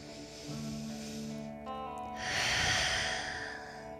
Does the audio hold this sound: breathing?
yes